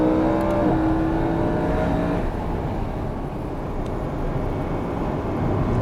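A BMW E92 M3 runs on a race track, its engine note rising briefly before dropping into a steady, loud roar with wind and road noise, close and continuous throughout.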